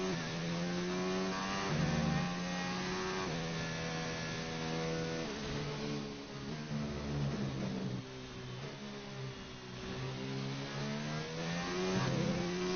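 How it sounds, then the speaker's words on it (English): Race car engine in F1 2019 revving hard toward maximum revs through a final corner, a loud sustained mechanical whine rising and falling in pitch, with no talking over it. "now turn up the engine to its maximum revs as we fly through that final corner"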